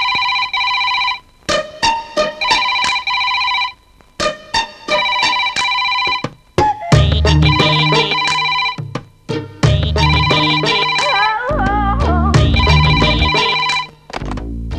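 A telephone rings in repeated electronic bursts, the tones starting and stopping in a steady pattern, clear and close, later mixed with louder musical sounds.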